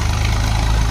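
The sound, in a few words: Swaraj tractor engine arriving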